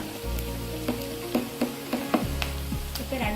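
A spoon stirring coriander powder into Kerala-style fish masala in a pan, with repeated scraping knocks over a steady sizzle on low flame.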